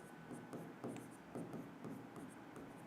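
Chalk or marker scratching steadily across a classroom board during a physics lesson on centre of mass, in short repeated strokes with small pauses, fairly close and alone without speech.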